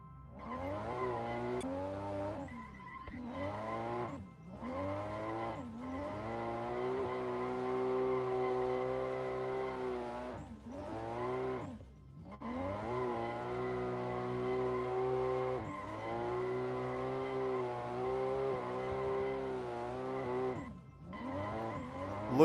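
A race car in a racing video game revs through rising and falling engine tones, with tires squealing and skidding through corners, steady and close throughout with brief gear-shift dips.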